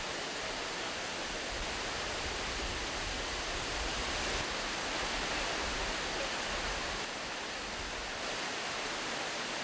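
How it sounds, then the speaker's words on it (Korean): Continuous broadband rush of a waterfall in Kingston, Jamaica, where water tumbles over more than 300 stepped rocks down about 200 m toward the beach; a steady, even roar throughout, no voices. "이 폭포에서 떨어진 물은 바로 해변의 바닷가로 향한다."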